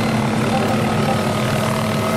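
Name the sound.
helicopter flying in a video game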